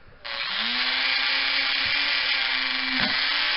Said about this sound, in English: I'm just going to take my Dremel with a little wire wheel. I'm going to clean this up a little bit in here.